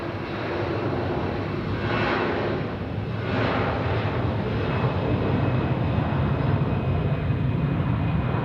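An Aer Lingus airliner at Zurich Airport produces a loud, continuous jet roar with slow swells in intensity, heard alone without voices.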